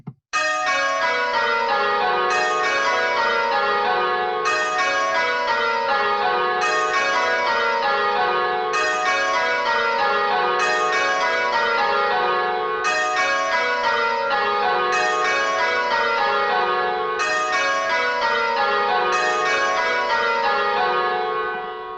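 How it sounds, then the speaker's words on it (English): Simulated church bells ring in a steady repeating round, each strike bright and ringing with long overlapping decay, the timing slightly unsteady; continuous and loud with no talk. "if we start making the bells slightly unsteady, we start to see some interesting effects as a result of that"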